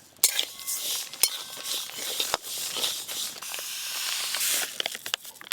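Golden moong dal stirred in a dry kadai: close, scratchy rattling and hissing scrapes of the grains against the pan, broken by sharp clinks and knocks of the utensil at irregular moments.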